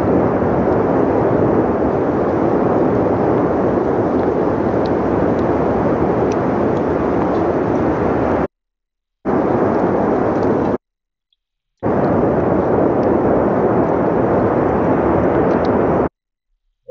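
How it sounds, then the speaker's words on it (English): Volcanic eruption on La Palma in the Canary Islands, a loud, steady roar and rumble that fills the clip, broken by two short silent gaps and an abrupt cutoff near the end. "La Palma volcano erupts, forcing evacuation. And it's in the Canary Islands."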